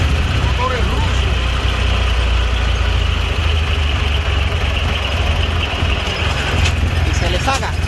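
Russian-made gasoline engine idling in Cuba, a steady low rumble running continuously throughout at close range, with faint voices and background noise over it.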